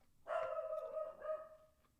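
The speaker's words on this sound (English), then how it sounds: "Swift, please stop barking." A dog named Swift gives a short, nearby bark followed by a drawn-out, whining howl, heard alone with no talking.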